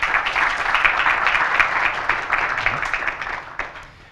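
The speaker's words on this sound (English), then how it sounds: "Can we have a round of applause?" A conference audience applauds steadily for several seconds, a dense wash of many hands clapping that tapers off toward the end.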